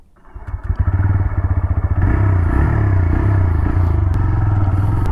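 A TVS Raider motorcycle engine fires up with quick thumping pulses, then settles into a steady, loud close-range drone as the bike rides off, with faint clatter over the running engine.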